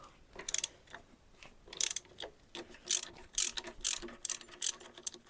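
A ratchet wrench loosening bolts on a T-40 tractor during a clutch job, giving repeated short bursts of rapid metallic clicking close by, with brief pauses between strokes.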